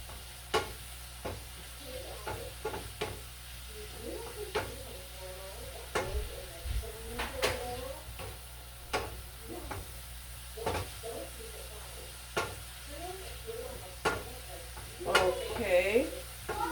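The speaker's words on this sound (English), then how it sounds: "just make sure that your ground beef is sauteed properly" Ground beef sautéing in a pan for shepherd's pie, a soft continuous sizzle with scraping stirs, under intermittent talk from a nearby voice.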